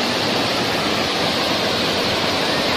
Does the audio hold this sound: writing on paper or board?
no